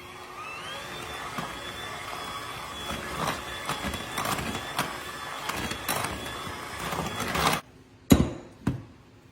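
An electric mixer whirs steadily while beating sour cream into peach pound cake batter, with a rising motor whine, uneven rattling and bumping in the bowl, then stops, followed by a few sharp knocks.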